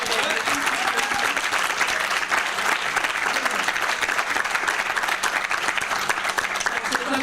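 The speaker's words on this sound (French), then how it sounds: "je voudrais qu'on applaudisse tous les réalisateurs." An audience at the opening ceremony of a Paris fantasy film festival applauds the film directors, a thick, steady wash of clapping from many hands that stays even and sustained without pause.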